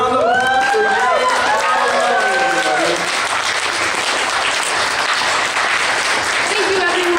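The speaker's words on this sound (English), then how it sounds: "one more round of applause for Yang" Loud audience applause at the Kraken Con 2014 cosplay costume contest, a dense steady roar of clapping with cheering voices and whoops over the first few seconds, continuing strongly to the end.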